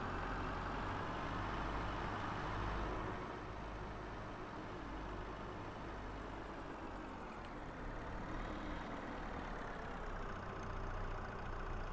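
Forklift truck engine in Farming Simulator 22 drones steadily at a constant idle-like pitch throughout, close and even, with no talking.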